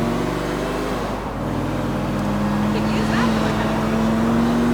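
A car engine droning steadily in the video game Grand Theft Auto IV, a continuous hum with slight rises in pitch as it drives, while someone speaks over it.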